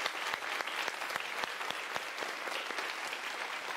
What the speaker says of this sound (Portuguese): grande Noel Rosa, aqui uma salva de palmas para ele, para a memória dele.